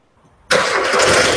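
After half a second of near silence, a car engine that has just had a basic service cranks and catches, then settles into a loud, steady running roar close by, with no voices.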